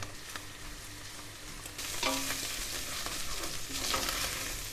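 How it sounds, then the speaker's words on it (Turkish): Minced meat and tomato paste sizzle steadily in a hot pan, with occasional scraping and stirring sounds and no voices. "iyice bir salçamla beraber kıymamı da kavuruyorum."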